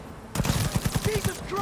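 Rapid automatic gunfire rattles in a steady burst during a Cyberpunk 2077 firefight, close and loud, with a few brief voice fragments mixed in.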